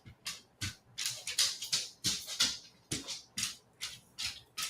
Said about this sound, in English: you probably hear my dog playing in the background